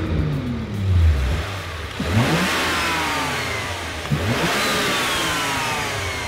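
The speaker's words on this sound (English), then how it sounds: "This thing sounds so good now, listen. So much more turbo noise." BMW turbocharged engine (N55/N54/B58 family) fitted with a VRSF muffler, revving twice with rising and falling pitch sweeps and audible turbo whoosh, loud and close, with no talking.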